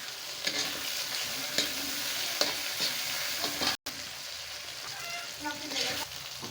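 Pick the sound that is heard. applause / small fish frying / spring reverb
small fish frying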